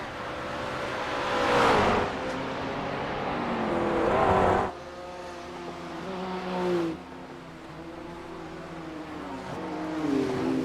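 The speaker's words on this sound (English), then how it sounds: "McCready was definitely pushing that car to its absolute limit, trying to gain some ground here." GT3 race car lapping Mt Panorama in a racing video game, engines revving and shifting through gears as cars roar past in several swelling pass-bys, loud and close with no talk.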